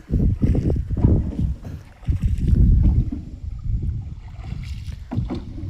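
A rowboat moves on a river at a ghat, with uneven bursts of low rumbling water and wind buffeting the microphone, loud then easing, with no talk.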